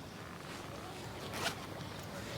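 A zip is pulled open in a brief quick rasp, heard once mid-scene against a quiet background of low room noise.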